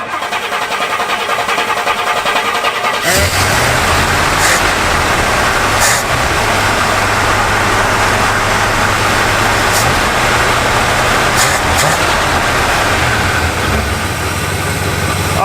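An old Cadillac engine, freshly fitted with a new Edelbrock carburetor after 30 years in storage, cranks briefly and catches at about three seconds, settling into a loud, steady, smooth idle that runs on without a break.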